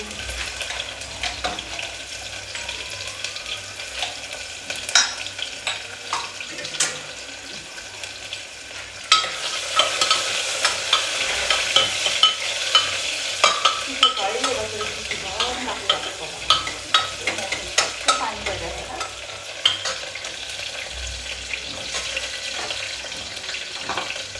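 Onions frying in a pan while being stirred, a steady sizzle with repeated scraping and clinking of the utensil, growing busier partway through, close by with no talk.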